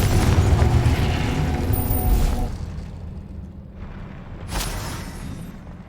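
The Confringo fire spell in Hogwarts Legacy explodes with a loud booming blast that rumbles and fades over a couple of seconds, followed by a second, smaller burst.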